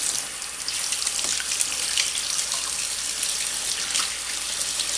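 Tap water runs steadily into a sink while tomato seeds are rinsed, a continuous close hiss with faint splashing and no talking.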